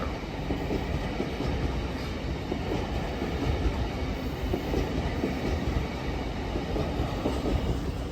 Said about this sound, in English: Now departing is the slightly delayed 1550 Transpennine Express service from Newcastle to Liverpool Lime Street, formed of 802-210.